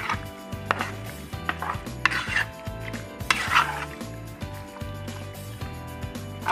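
Mutton being mixed by hand in a bowl with turmeric powder and salt, giving soft wet squelching and irregular clinks and scrapes against the dish, close up, over quiet background music.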